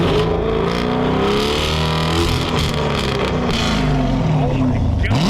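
A tuned, already warmed-up car engine fitted with long-tube headers revs hard and close, its throaty drone climbing and falling in pitch through repeated blips over a steady idle rumble.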